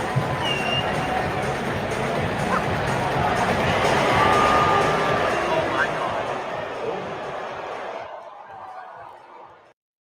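A Sacramento Kings home crowd at an NBA game reacts during a timeout promo with a loud, sustained wash of murmuring, laughter and scattered cheers that swells midway and then fades away near the end.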